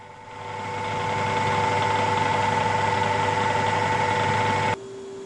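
A milling machine's knee being raised, most likely by a power feed, gives a steady mechanical hum with a stable tone that builds over the first second, holds evenly, and cuts off sharply near the end.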